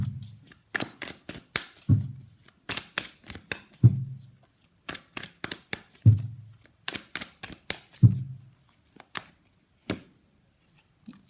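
Tarot cards being shuffled and handled, giving a run of crisp papery riffles and slaps in irregular bursts with regular low thumps every two seconds, close and fairly quiet with no speech.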